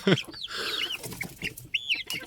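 A hen clucks close by in a short run of rough, throaty calls broken by a few higher-pitched squawks.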